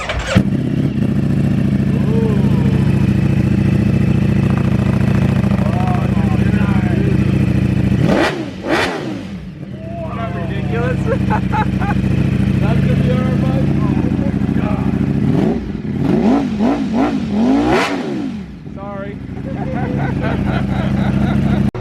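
A 2020 Streetfighter motorcycle with a full aftermarket exhaust system revving loudly up close, a steady throaty idle broken by two sharp blips around eight and seventeen seconds, with people talking nearby.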